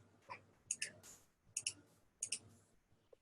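Three pairs of crisp computer mouse clicks arrive at even intervals, close and distinct against a quiet background with faint breathy noise between them.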